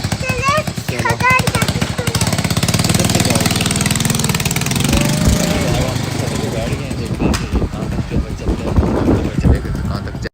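A rough-sounding motorbike engine idles in a residential lane, a steady low chugging close by, with people talking over it throughout.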